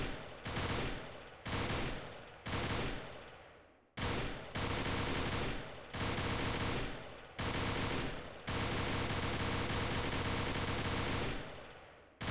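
Light machine gun fire in the guerrilla war game Freeman: Guerrilla Warfare, loud sustained automatic bursts with short pauses between them, building to a long continuous burst near the end, no talking.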